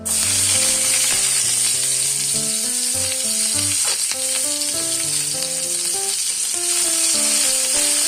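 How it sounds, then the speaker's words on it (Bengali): Sliced onion frying with nigella seeds in hot oil in a frying pan, a steady, close, dense sizzle that runs without a break and carries faint stirring sounds, with no voices. "এবার ফ্রাই প্যানে আমি আরেকটু কিছু তেল দিয়ে কালি জিরে দিয়ে দিয়েছি। এর মধ্যে আমি বেশ কিছুটা পেঁয়াজ দিয়ে দেব"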